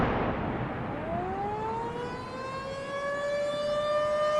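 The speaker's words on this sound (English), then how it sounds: "had the dispatchers turn on the sirens and keep them going" Tornado warning sirens in Greensburg, a civil defense siren winding up from low to a high, sustained wail that carries steadily and loudly with no voices over it.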